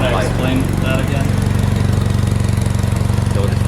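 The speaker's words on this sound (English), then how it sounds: "When I floor it, there's like this flutter sound." A Ford Foxbody Mustang engine with an exhaust leak runs hard, giving a loud, steady throb with a fast rhythmic flutter in the exhaust note, close up, with some brief talk at the start.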